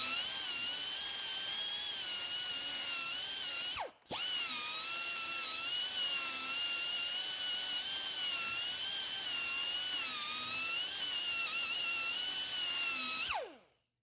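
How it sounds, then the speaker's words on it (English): A grinder with a flat disc whines loudly as it grinds rust off a lower ball joint on a 2005 Subaru Legacy GT, running in two long passes with one brief stop and spin-up between, pitch wavering under load. "You're gonna get a flat disc and just grind the edge."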